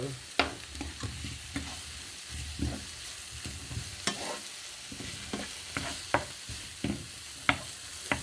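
Mushrooms, courgette and tomato frying in a pan, a soft sizzle under regular spoon scrapes and taps against the pan, near and moderately quiet with no talk.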